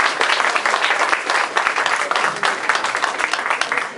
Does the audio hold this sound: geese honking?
no